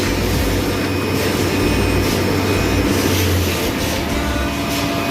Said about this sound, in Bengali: বড় পাম্প দেওয়া আছে, 3 ফেজের মোটর আছে, কত বড় পাম্প দেখছে, ওই জন্য এর ফোর্সটা বেশি।